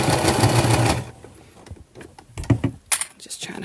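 Sewing machine stitching a fabric organizer, a dense steady whir for the first second, then stopping, followed by quieter scattered clicks and handling sounds close by.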